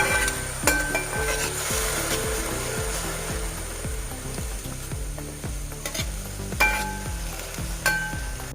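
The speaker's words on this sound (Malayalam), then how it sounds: "ഉരുളക്കിഴങ്ങ് ക്യാരറ്റ് കറുവപ്പെട്ട എല്ലാം ഇട്ടിട്ടുണ്ട് ഇതെല്ലാം ഒന്ന് ഇളക്കി വെച്ചിട്ട് നമുക്ക് വേവിക്കാൻ വേണ്ടി നിൽക്കാം" Potato, carrot and cinnamon stirred in a pot for vegetable stew, a rhythmic series of scraping strokes with light metallic clinks over a constant low sizzle and hum, no talking.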